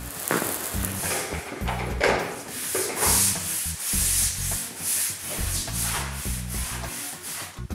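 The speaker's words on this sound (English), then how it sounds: "We must vigorously scrub the floor." A concrete floor is scrubbed hard with cleaning solution ahead of epoxy coating, making loud, rhythmic rubbing strokes that overlap in a steady back-and-forth scrape.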